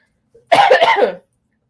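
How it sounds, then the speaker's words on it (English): A single short, harsh cough lingering after COVID, close and loud, with a brief breathy lead-in, then silence. "I still have a cough from COVID."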